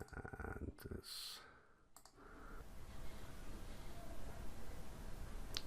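Several sharp computer mouse clicks come close up in a quiet room, a quick cluster near the start followed by a single click at the end, over faint background hum.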